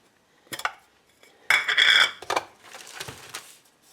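Dry seasoning shaken inside a lidded container during home cooking: a few short rattling bursts, then one longer vigorous shake, close and fairly loud, with no talking.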